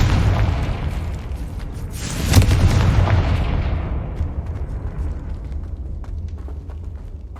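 A Confringo spell blast in Hogwarts Legacy goes off as a single loud booming burst, then rumbles and fades slowly over several seconds, with a low steady background underneath.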